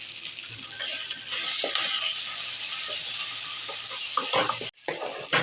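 Grated ginger paste sizzles and fries in oil in a pan with steady crackling hiss, joined by scraping stirs toward the end, with a brief drop near the close before the sizzle resumes.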